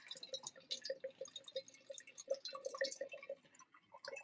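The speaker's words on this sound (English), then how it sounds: "okay, got a nice little pour going there." Wine pours into a glass in a quiet room, a soft close trickle and splash with gurgling bubbles running continuously, faint and without talk.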